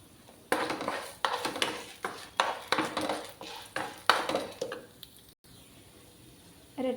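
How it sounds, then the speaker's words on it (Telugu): Chana dal, tamarind and spices dry-roasting in a pan for drumstick-leaf chutney powder, stirred with a utensil in a steady series of close scraping, rattling strokes that stop near the end. "అన్నీ కలిసేలా మంచిగా వేయించుకోవాలి ఇవన్నీ."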